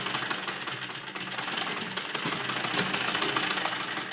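Sewing machine running while a kurta sleeve is stitched onto a heavily worked lined suit, a continuous fast mechanical whir with rapid needle ticking, close and steady throughout.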